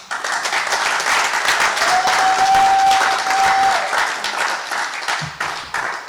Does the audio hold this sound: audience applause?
yes